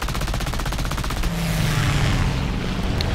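Machine gun fire from an I-15bis fighter in War Thunder ground realistic battle, a rapid continuous burst of loud shots that gives way to a steadier engine-like roar.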